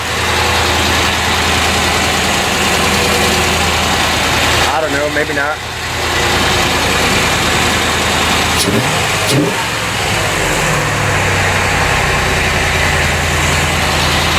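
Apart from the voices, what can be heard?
1990 C4 Corvette engine idling with noisy air pump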